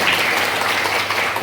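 An audience claps together at an Indonesian digital marketing and content creator seminar, a dense and loud wash of applause that holds steady throughout.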